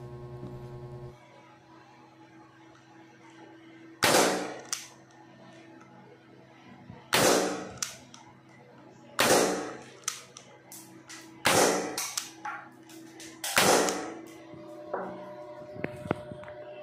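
A KJ Works MK1 airsoft pistol fired indoors, about six sharp loud cracks at irregular intervals, each with a quick decaying tail over a low electrical hum.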